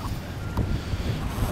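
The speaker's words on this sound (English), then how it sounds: "And now it's pretty windy." Steady, blustery wind roars across the microphone, with low rumbling gusts and faint water churning beneath it.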